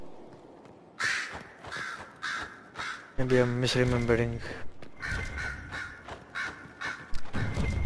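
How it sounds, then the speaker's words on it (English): Crows caw repeatedly in Dragon Age Inquisition, loud harsh calls recurring in bursts throughout alongside footsteps and game ambience, with a player speaking over them. "Shut up, crows."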